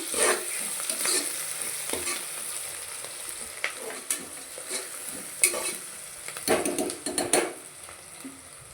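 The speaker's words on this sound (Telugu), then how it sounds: "కొంచెం కలర్ వచ్చే వరకు వేగనిద్దాము ఉల్లిపాయలు" Onions sizzle in hot oil for a mutton curry while a spoon stirs and scrapes the pan, a steady close frying hiss broken by irregular clinks and scraping strokes.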